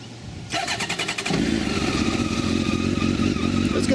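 A Honda CBR1100XX Super Blackbird motorcycle started from cold: a brief starter crank, then the engine catches and settles into a steady, loud, close idle.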